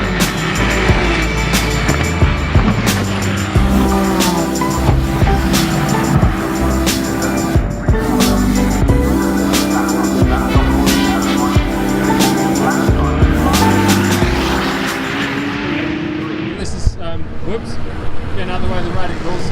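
Radical race cars run on the Snetterton circuit, engines roaring loudly and continuously up close as cars pass, with a voice talking beneath the din.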